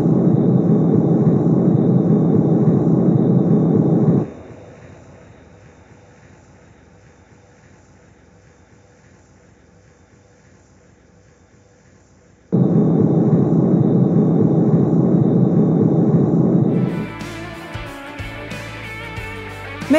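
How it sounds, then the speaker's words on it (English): Loud, steady engine roar heard through headphones drops sharply to a faint rumble for several seconds as active noise cancellation switches on, then returns at full strength before shifting to a rougher, rattling noise. "the microphone on the outside of these headphones can measure the noise from the engine"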